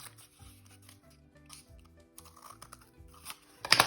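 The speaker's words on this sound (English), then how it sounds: "I'm gonna cut just 4 pieces" Scissors cutting notches into cardboard, a run of short crunchy snips and scrapes repeating in quick succession, close and fairly quiet, ending with a louder sharp cut.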